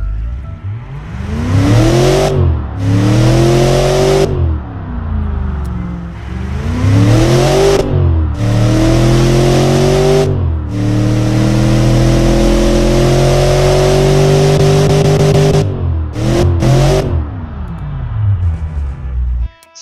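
A tuned Mercedes M113 engine with new mufflers and replaced catalytic converters, simulated in the Automation game, revs loudly in repeated climbing surges that fall back between bursts, then holds a long high rev before a few quick blips, with no talking.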